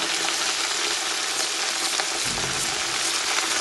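A large batch of garlic, three kilos, dropped into oil already frying green chili, ginger and curry leaves for a Kerala-style garlic pickle, giving a loud, steady, close sizzle that hisses without a break.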